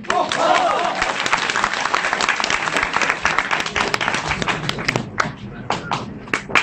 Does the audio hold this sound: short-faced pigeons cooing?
no